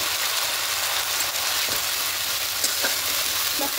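Spice paste frying in oil with whole garam masala for a fish roe fritter curry, a dense continuous hiss of sizzling close by, steady throughout with a few faint stirring scrapes and no voices.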